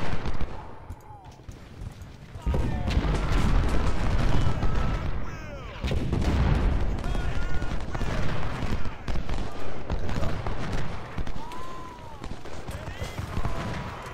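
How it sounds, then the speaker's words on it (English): Massed rifle volleys from Civil War infantry in the Ultimate General: Civil War strategy game, crackling in dense, overlapping bursts. Someone talks over the gunfire. "Maximum range, let's just have you shooting."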